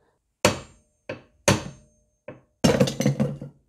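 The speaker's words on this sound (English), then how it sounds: "with a hammer you can knock a little bit on this" Five sharp metallic hammer knocks on a windshield wiper arm bolt of a Mercedes W203 C-Class, close up, the last ones coming in a quick burst of several rapid strikes.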